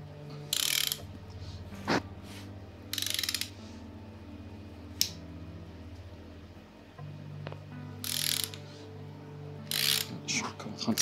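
A ratchet tightens bolts during timing reassembly on a Nissan 350Z engine, with short bursts of rapid clicking spaced by pauses and a low steady hum in a quiet workshop.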